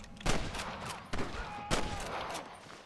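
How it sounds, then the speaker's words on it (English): Gunfire in the Western video game Red Dead Redemption: three separate sharp bangs with short echoing tails, spaced roughly a second apart, moderately loud against a low background. "I can hear more gunshots."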